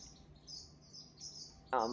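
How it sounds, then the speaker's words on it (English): Aviary birds give several quick, high chirps and tweets, faint and scattered, ending with one louder, nearer call. "here are the birds right now, some of them anyway"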